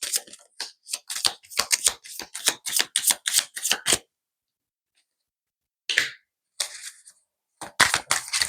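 A deck of cards is shuffled and riffled in quick, crisp bursts, then a pause, then a few more sharp flicks.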